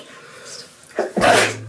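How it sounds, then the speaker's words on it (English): One close sneeze with a quick intake of breath before it, followed by a brief low hum. "I had to sneeze"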